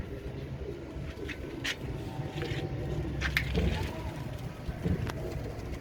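Royal Teddy pigeons, four pairs, coo softly against a steady low rumble of background noise, with a few faint higher chirps and clicks scattered through.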